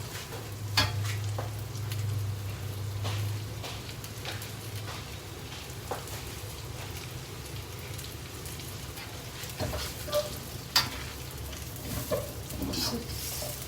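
Meat and onions fry in a pan, a soft, steady crackling sizzle like light rain, with a low hum early on and a few scraping stirs near the end.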